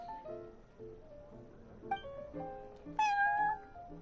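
Cat meows from the Cat's Tail in the Genshin Impact video game, a series of short, close, tonal mews that rise in pitch toward a louder final call.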